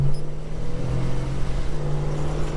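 A Holden HK car engine, sounding like a V8 and fitted with a second-hand exhaust manifold gasket, revs and accelerates with a steady low drone and some wheel spin, heard up close and continuously.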